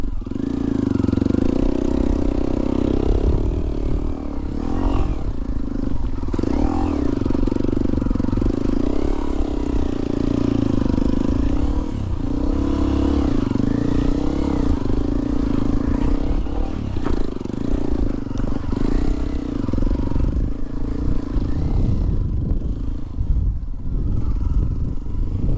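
A motorcycle engine runs continuously at close range with a steady, rough drone, mixed with clattering and scraping over rough mountain trail ground.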